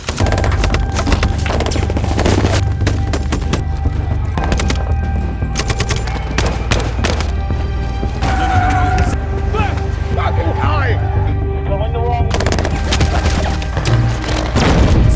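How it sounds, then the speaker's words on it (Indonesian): A loud film gunfight between a team and rebels in 13 Hours rages continuously, with dense automatic gunfire, single shots and booming impacts layered into a thick, unbroken battle mix. "terjadi baku tembak antara tim dan para pemberontak"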